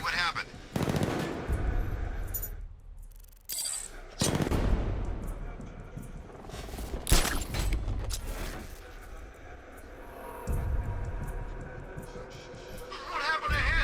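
Bursts of automatic gunfire from the Batman Arkham Knight video game, loud rattling volleys with brief pauses between them, mixed with game sound effects.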